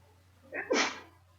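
A single sneeze from a woman, close and fairly loud, a short breathy intake followed by a sharp burst, with a faint steady hum underneath.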